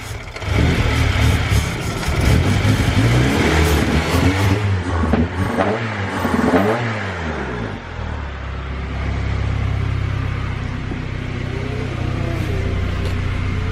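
A K-swapped Honda CRX with a full 3-inch exhaust revs loudly and close, with rising and falling engine pitch sweeps and a steady throaty drone toward the end.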